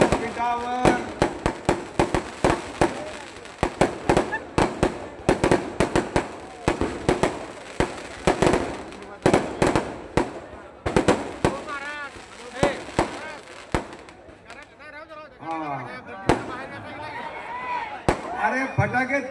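Firecrackers burst in rapid, loud volleys near the stage of an outdoor political rally in Pune. Sharp cracks come in dense irregular bursts, then thin to scattered bangs, while a voice speaks over them.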